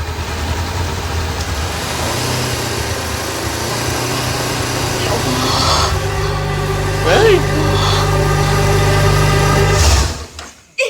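A motorcycle engine drones steadily and close, its pitch shifting partway through before it cuts off sharply at the end, with a voice speaking over it.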